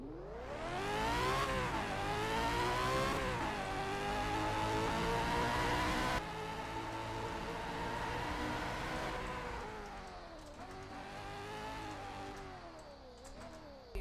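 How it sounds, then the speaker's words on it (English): A car engine in the video game Midnight Racing Tokyo revs hard and repeatedly, its tone climbing and dropping through several loud, sustained pulls with no talking. "Absolutely great sounding car."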